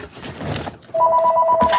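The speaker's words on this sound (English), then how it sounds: "So I heard the phone ring and I had to go get it." A telephone rings indoors, its loud, regular pulsed tone starting just under a second in after a brief muffled rustle and repeating steadily to the end.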